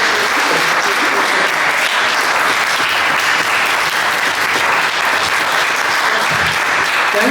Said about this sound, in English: So maybe one big applause for.